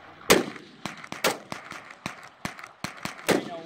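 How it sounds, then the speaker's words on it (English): A SIG 229 pistol fires 40 Smith & Wesson rounds at an outdoor range, with sharp, loud reports and several more cracks in an uneven sequence, each decaying quickly. "we're going to chronograph some 40 Smith & Wesson out of the SIG 229."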